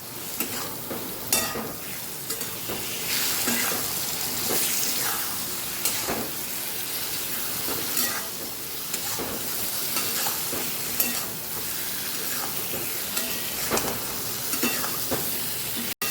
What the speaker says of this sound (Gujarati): હવે આપણે એને મિક્સ કરી લઈશું.